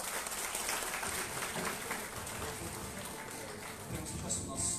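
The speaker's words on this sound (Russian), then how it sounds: "Пожалуйста, еще раз поддержите аплодисментами." Audience applause at the opening of a business forum plenary session in Blagoveshchensk, a dense steady clapping from a large hall crowd that continues evenly throughout at moderate loudness.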